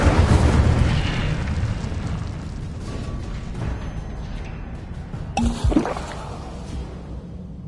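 A fire spell blast cast in Hogwarts Legacy, a loud whooshing burst with a rumbling low-end boom that fades, followed by a brief sharp burst near the end.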